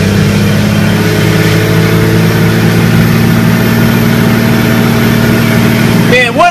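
Big Cummins diesel truck with huge tires and a six-speed, pulling steadily up a hill in fifth gear, a loud, constant low engine drone with a brief tonal sweep near the end.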